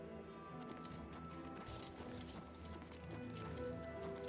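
Horse hooves clip-clop through a swampy area in the game Oblivion Remastered, a quiet run of steps under soft ambient game music, fairly faint overall.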